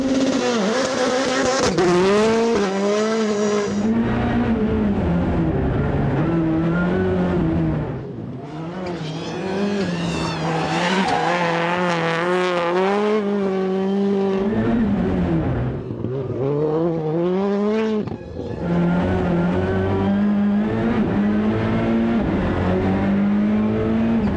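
An Audi S1 RX rallycross supercar's engine revs hard and drops through gears as it drives an asphalt track, loud and close throughout, with brief tire noise.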